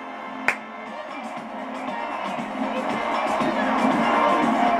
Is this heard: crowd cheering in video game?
yes